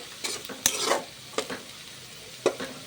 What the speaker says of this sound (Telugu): ఆనియన్స్ ఫ్రై అయ్యాక బాగా బ్రౌన్ కలర్ వచ్చేటట్టు ఫ్రై అయ్యేంత వరకు ఆనియన్స్ ఫ్రై చేసుకోండి.